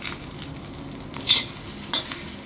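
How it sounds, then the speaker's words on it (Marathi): Grated coconut roasting in oil in a pan for Malvani chicken rassa, a steady close sizzle with two sharper scraping stirs of a spatula, no voices. "खोबरं जरा आपल्याला व्यवस्थित भाजून घ्यायचं आहे."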